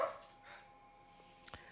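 A house dog gives a faint, distant bark or yip, one brief call near the start and another short burst near the end, over a quiet room.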